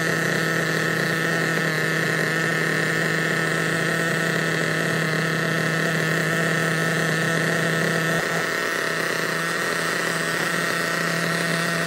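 A Losi nitro RC truggy engine idling during break-in on a test table, a steady buzzing drone with a constant pitch that holds throughout at moderate level, no voices.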